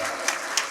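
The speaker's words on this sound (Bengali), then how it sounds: "ছেলের জন্য একটা করতালি দিবেন না?" An audience claps for a boy at a public talk, a brief burst of applause of moderate loudness with a couple of sharper claps standing out, no voices over it.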